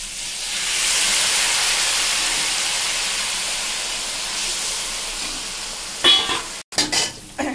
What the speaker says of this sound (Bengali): এবার আমি জল ছেড়ে দেবো।